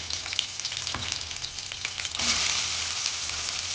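Garlic sizzles and fries steadily in hot oil, a continuous crackling hiss that swells louder partway through, with no voices over it.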